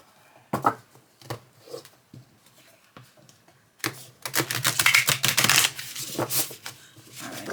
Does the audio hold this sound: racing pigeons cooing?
no